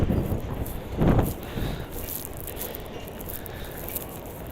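Strong gusting wind at Coney Island, a broad rushing roar buffeting the microphone with a heavier gust early on, then a steady blustery hiss.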